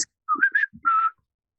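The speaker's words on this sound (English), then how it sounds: "You produce a lovely high-pitched whistle. It's almost a little tune" A person whistles a short, high-pitched little tune, a few rising and wavering notes with faint breathy sounds between, close and clear, ending in silence.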